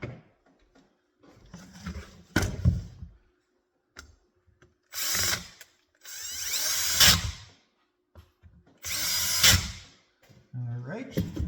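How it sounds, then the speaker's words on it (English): A cordless power drill snugs up bolts on a chainsaw, several short whirring bursts separated by pauses, with a person talking between them and clicks of handling. "we can use our drill to finish it off"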